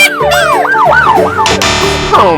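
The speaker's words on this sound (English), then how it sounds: "Ambulance." Toy ambulance siren wailing in a rapid rising-and-falling pattern, bright and close, over a busy bed of background music and effects, with no speech.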